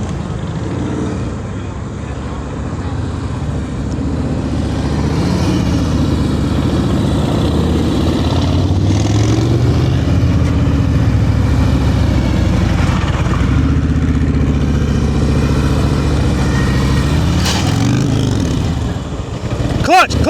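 Motorcycle engine at low speed during advanced slow-speed riding practice in Massachusetts, a steady mid-low drone with small throttle swells and clutch-feathered variations throughout, close and continuous, with an instructor talking over it.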